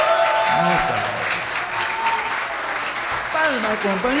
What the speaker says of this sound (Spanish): Gracias por esas amables aplausos